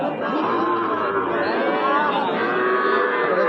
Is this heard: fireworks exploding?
no